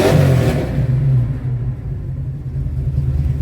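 A Pontiac 455 hot rod with long-tube headers, 2.5-inch X-pipe exhaust and Violator mufflers rumbles through its pipes, a deep loud rev that eases off after a second into a steady burbling idle, close by.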